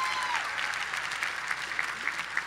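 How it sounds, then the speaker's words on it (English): A large commencement crowd applauds steadily, a broad wash of many hands clapping at moderate volume, with some voices and faint whoops rising through it. "Give her a round of applause for that."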